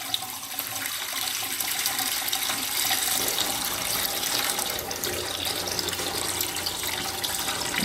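Coolant draining out of a BMW S1000RR motorcycle after the cap is removed, a steady close, loud pouring and splashing of liquid that runs unbroken throughout.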